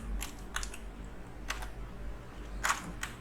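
Scattered clicks and taps on a computer keyboard while typing code, with several spaced bursts of keystrokes over a quiet room background and no voice.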